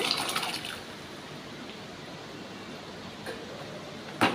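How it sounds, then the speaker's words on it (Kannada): Pressure-cooked dal and tomato poured into a pan of fried seasoning, giving a soft, continuous wet sizzle and slosh at close range with a couple of brief clinks. "ಇವಾಗ ನಾವು ಕುಕ್ಕರಲ್ಲಿ ಬೇಯಿಸ್ಕೊಂಡ ಬೇಳೆ ಮತ್ತು ಟೊಮೆಟೊ ಇದೆಯಲ್ಲ ಅದನ್ನು ಕೂಡ ಹಾಕೋಣ"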